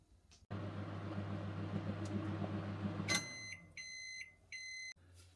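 A microwave oven heating a bag of salmon and dill ravioli, a steady low hum and whir that stops, followed by a run of sharp, clear beeps close by.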